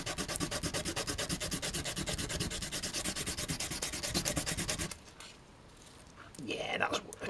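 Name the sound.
sanding with sandpaper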